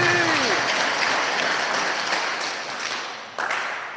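A church congregation at an Easter-season Sunday Mass claps loudly in praise, a thick sustained round of applause with a brief dip near the end before swelling again.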